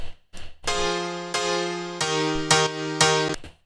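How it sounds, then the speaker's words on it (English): Piano chords played slowly and clearly, each sustained chord struck in turn with a bright, ringing tone. "The piano track sounds like this."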